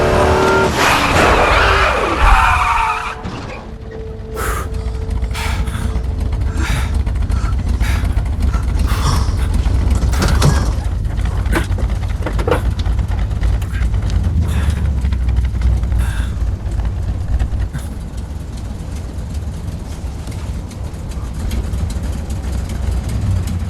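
A car pulls to a stop and its engine keeps running, opening with a loud burst of motion and tire noise before settling into a steady low idle rumble broken by scattered clicks and knocks.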